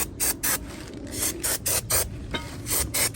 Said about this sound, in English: You got to spray it down with brake clean.